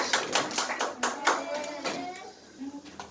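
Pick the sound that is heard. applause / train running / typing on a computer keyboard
applause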